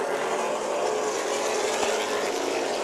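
Late model race cars roar past at Orange Show Speedway during a 100-lap main event, a dense, continuous engine drone that stays loud and steady throughout, with no voices.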